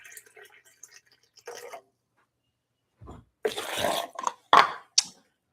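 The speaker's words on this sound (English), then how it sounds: "Now I'm going to put a cup of water in there." Water poured from a cup into a blender holding fresh ginger, garlic, tomato and smoked paprika for a curry: a few faint early drips, then a louder splashing pour that breaks into short gushes, close and with no talking.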